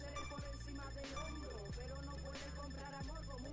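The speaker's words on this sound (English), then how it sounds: "Oh, I got two notifications." Football career mode game notification chimes, a few short repeating tonal pings over soft background music, faint.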